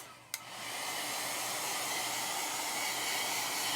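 A hair dryer drying a freshly washed Chalk Couture stencil: a short click as it switches on, then a steady loud blowing roar held close for several seconds without any speech.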